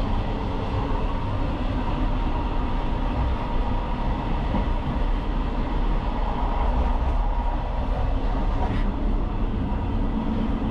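A refurbished Czech local train running from Štramberk to Studénka, heard from inside the carriage as a loud continuous rumble and rattle with steady rolling wheel noise and no talk.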